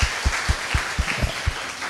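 An audience claps to welcome first-time guests at a church Bible study gathering, a short burst of applause in uneven, spaced claps that runs about two seconds, fairly close and moderately loud with no talking.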